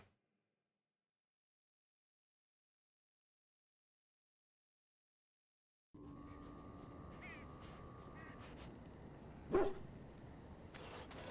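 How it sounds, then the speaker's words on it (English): A dog barks at the party camp in the video game Dragon Age: Origins, with a single sharp bark rising over steady game ambience that starts after several seconds of silence. "Woof yourself, doggo."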